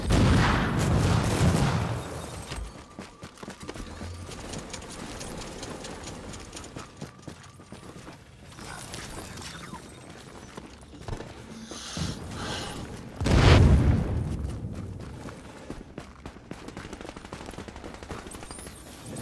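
Gunfire in Tom Clancy's The Division, with bursts of shots in a firefight, loudest near the start and again toward the end, over steady game ambience.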